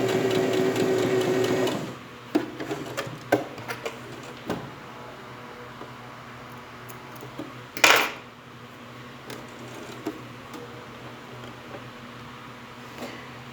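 A sewing machine runs a steady, fast stitching burst for about two seconds while sewing ribbon onto a school pencil case. The motor then stops, leaving scattered clicks and light handling noises in a quiet room.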